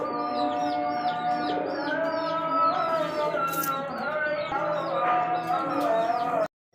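Several black Lakha pigeons coo in repeated low, throaty phrases close by, overlapping one another, with higher chirps mixed in, ending abruptly.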